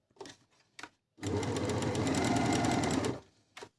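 A Merrylock 3000CL overlock sewing machine runs in one loud, steady burst of about two seconds, with soft handling clicks before it starts and after it stops.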